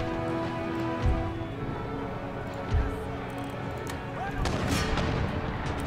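Mortar round shot firing in the game Empire Total War, a siege at garrisoned walls: two dull booming reports about two seconds apart, followed by a rumbling volley, over a steady din of battle noise.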